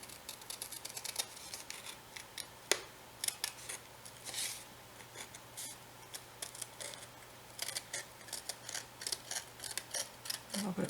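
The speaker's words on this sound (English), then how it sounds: "So I'm just using my scissors and I'm angling them under just a little bit." Small craft scissors trim paper for a mini album, giving quiet, close crisp snips and rustles in irregular bursts over a faint steady hum, with no talking.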